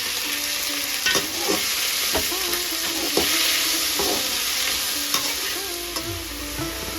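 Chopped tomatoes and softened onions sauté in a pan for a Tamil ennai kathirikai brinjal curry. A steady sizzle runs throughout, broken by regular scraping stirs of a spoon about once a second.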